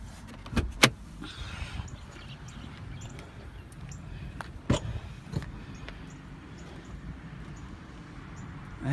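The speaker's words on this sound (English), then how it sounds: "So the hatch does function, does open up, does stay up all on its own." Rear hatch of a 1988 Honda Civic wagon opening, with a sharp latch click near the start followed by a second clack midway, over a low steady background rumble.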